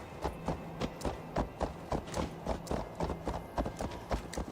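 Horse hooves clip-clop at a steady trot in Assassin's Creed Valhalla, a regular run of close, moderately loud thuds with no voices over them.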